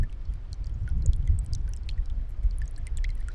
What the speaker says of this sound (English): That's Pilarcitos Creek, home to the rare steelhead trout.